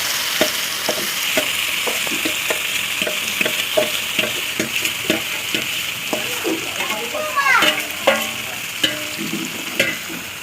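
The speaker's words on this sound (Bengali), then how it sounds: "এই অল্প তেল তো গরম হয়ে গেছে। এরপরে কচুর লতিগুলো একে একে সব ঢেলে দিলাম।" Taro stolons tipped into a little hot oil in a kadai sizzle steadily while a spatula scrapes and stirs in repeated strokes, close and fairly loud, with a voice speaking briefly partway through.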